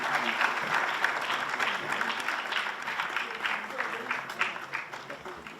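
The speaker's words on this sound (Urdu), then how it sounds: "آپ حضرات سے گزارش ہے کہ تالیوں کے ساتھ کتاب کا استقبال کریں۔" An audience at the Jashne Ghalib 2025 book release at the Ghalib Institute claps steadily to welcome a new publication, with voices audible beneath the sustained applause.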